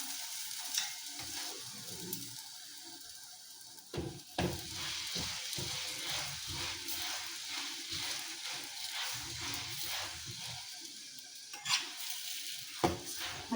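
A pumpkin chapati cooks on a pan with a soft, steady sizzle, broken by occasional light taps and scrapes as it is turned.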